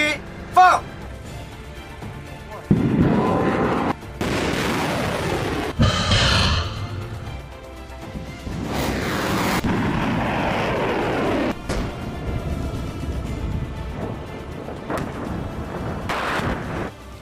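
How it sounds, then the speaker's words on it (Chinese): Long-range rocket artillery live-fire launches, guided by drone, boom out as several loud blasts and rumbling roars spread across the stretch, with a voice talking over them. "我们通过无人机实时引导的方式进行实弹射击"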